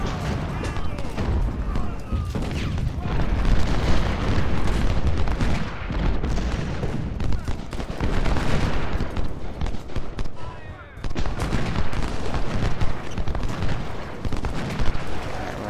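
Gunfire and explosions in the Civil War strategy game Ultimate General: Civil War, with massed rifle volleys, cannon booms and rolling battle noise continuing throughout, loud and dense, under occasional talk.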